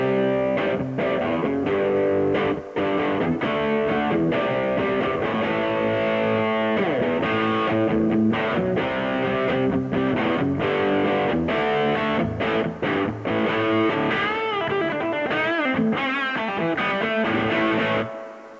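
A Gibson SG runs through a Marshall Governor overdrive pedal into a restored 1968 Fender Super Reverb amp, playing loud, continuous distorted rock chords and riffs with steady strummed attacks throughout.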